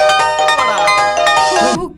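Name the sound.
mobile phone ringing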